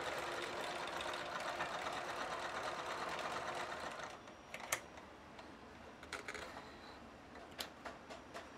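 A hand-turned 4-in-1 sewing machine runs with a steady, close whirring rattle for about four seconds, then stops, leaving a few scattered mechanical clicks and no voices.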